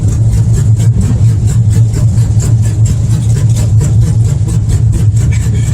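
A Chevrolet S10 truck with a lumpy cam idles close by, its loud, low exhaust loping in an uneven, rhythmic chop that never settles into a smooth hum.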